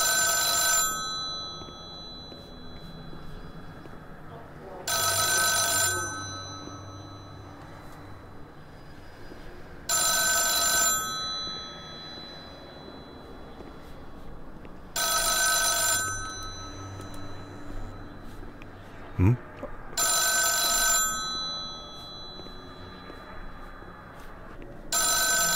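A telephone bell rings in the horror game The Town of Light, five loud bursts of about a second each, evenly spaced roughly five seconds apart over a quiet ambient drone.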